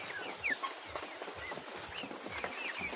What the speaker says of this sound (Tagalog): heto naman ang babaeng Rhode Island Red